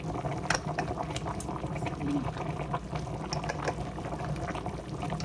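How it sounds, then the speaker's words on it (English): Water boils vigorously in a pot with a steady, dense bubbling and popping that continues throughout. "It's boiling."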